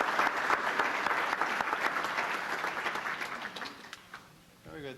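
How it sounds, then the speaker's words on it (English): Audience applause for Karen Scabato at an athletic hall of fame ceremony, lively clapping that gradually thins and fades, ending with a voice starting to speak. "Let's have another round of applause for Karen Scabato."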